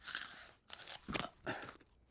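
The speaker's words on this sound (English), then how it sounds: "That looks like a particularly crunchy carrot." A crunchy carrot is bitten and chewed in a cartoon scene, giving four distinct crisp crunches in an uneven rhythm, close and fairly quiet, with no talk.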